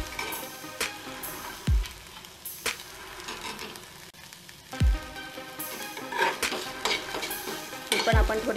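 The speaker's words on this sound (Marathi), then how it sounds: "त्याच्यामध्ये मी आता 1 टेबलस्पून आलं लसूण आणि हिरवी मिरचीची पेस्ट घालणार आहे आणि ती सुद्धा आपण 1 मिनटं चांगली परतून घ्यायची आहे" Ginger, garlic and green chili paste sautés with onions in a pan, giving a steady sizzle. Sharp metal-on-pan scrapes and taps from stirring come every second or two, close and clear, with no talking.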